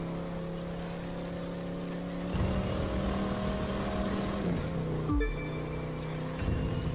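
A muscle car in The Crew 2 racing game power slides, its engine drone and tire noise rising and dipping in a continuous stream over tonal in-game music.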